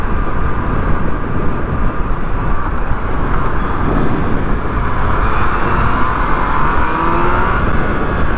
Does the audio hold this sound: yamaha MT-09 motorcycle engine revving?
yes